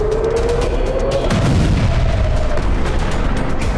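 Booming blast from a Houthi hypersonic ballistic missile strike on Tel Aviv, a dense, continuous roar with heavy low rumble and a faint rising whine, loud and sustained with no clear pauses.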